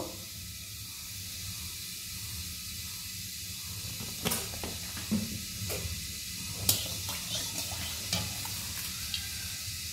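Oil heating in a hot kadai (wok) gives off a steady, soft sizzle and hiss, joined by a few sharp crackles and pops. It carries on without speech.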